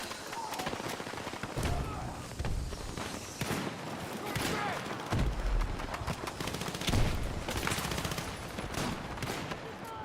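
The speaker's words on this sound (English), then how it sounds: "Sometimes the game's so loud. Especially with all the shooting explosions and everything." Battlefield 6 battle with rapid, dense gunfire bursts and booming explosions, continuous and loud throughout, with a voice occasionally talking over the combat.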